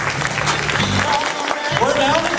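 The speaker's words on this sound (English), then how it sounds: "let's give Jotaro a big round of applause" Audience applause for a contestant at a Pokémon game show at an anime convention, a dense clapping crowd with voices and an amplified host talking over it.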